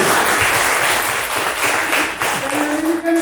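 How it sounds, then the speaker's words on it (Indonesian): Applause from an audience at an Indonesian regional government award ceremony on universal health coverage in Raja Ampat, a dense burst of clapping that stays loud for a few seconds before thinning out, with a voice briefly over it. "tepuk tangan kau buat"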